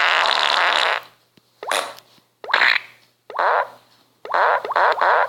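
Several wet, sputtering farts in a row, the first long and loud, then shorter bursts separated by brief silences, close and with no talk.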